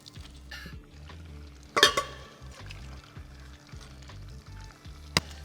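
Pasta being stirred into Alfredo sauce in a pan, a soft low sizzle with rhythmic scraping stirs and a couple of sharp utensil clinks against the pan.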